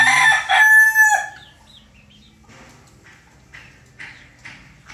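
A young stag rooster crows loudly and close by at the start. Softer clucks and chick peeps from roughly two-month-old chicks follow in short scattered bursts over a quiet background.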